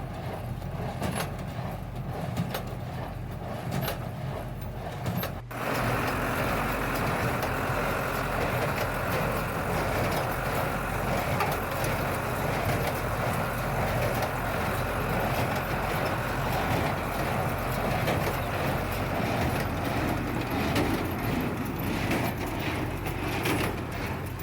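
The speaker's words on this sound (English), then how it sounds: "So it eats the hay. Puts it up in there. Presses it, gives it a whack, and pushes it out there." Steady mechanical drone of a hay baler at work on a farm, a continuous engine-driven rumble with a single sharp thump early on, then an even, unbroken churning sound.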